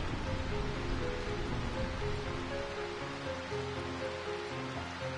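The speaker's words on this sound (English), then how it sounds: "I find this rain quite pleasant." Steady rain hisses across a scene in Final Fantasy IX on PS5, a dense even wash of drops with faint sustained musical tones underneath and no voices.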